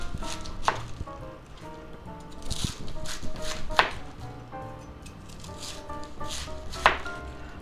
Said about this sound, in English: We can just chop it up